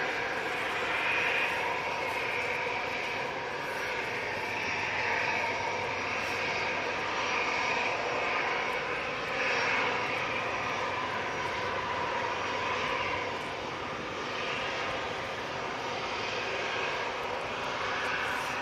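Air Tanker jet aircraft departing, a steady broad jet engine roar with rushing high whine, sustained and moderately loud at a distance, swelling slightly as it climbs away.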